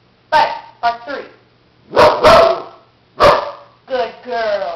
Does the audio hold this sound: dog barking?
yes